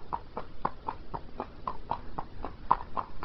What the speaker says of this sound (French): On a vu deux chevaux de trait